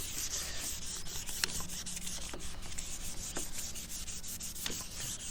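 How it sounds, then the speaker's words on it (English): Hand sanding of a 2006 Subaru WRX headlight lens in steady back-and-forth strokes, a continuous close abrasive rubbing with a few sharper scrapes, no talking. "eventually what you're going to want to do is start going in some back and forth motions."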